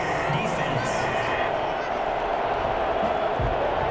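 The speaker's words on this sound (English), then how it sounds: "Some boos coming down right now from this home crowd after that call" A home stadium crowd in the Madden 21 football video game gives off a steady, loud roar of disapproval, a continuous wash of massed voices that stays even throughout.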